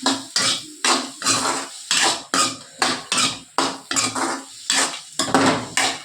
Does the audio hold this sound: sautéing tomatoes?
yes